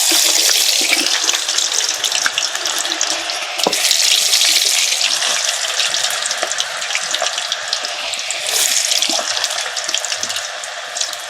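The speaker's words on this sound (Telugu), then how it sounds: "ఇట్లా వేపుకోవాలా. ఎర్రగా వేపుకొని తీసి పక్కన వేసుకోవటమే" Potatoes frying in a pan for aloo fry, a loud dense crackling hiss close up, steady with slight surges, alongside occasional stirring movement.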